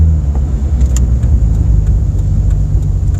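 A Jeep XJ pulls away and shifts gears from inside the cabin. A loud, steady low engine drone carries through, with faint clicks and a slight change in tone around the shift, and no talking.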